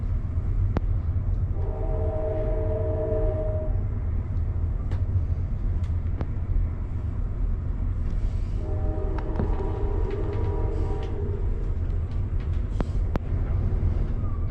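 Amtrak Train 4 pulling into Mendota, Illinois, heard from aboard as a steady, loud low rumble of wheels on rails, with two stretches of tonal horn-like hum rising over the roar.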